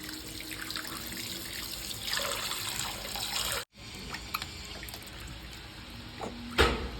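Water runs and splashes during a small child's bath at home, a steady gushing stream near by with a brief pause and one sharper splash near the end.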